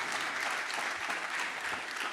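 A men's health conference audience claps in brief, steady applause as a speaker walks up, a continuous wash of hands from a sizable crowd.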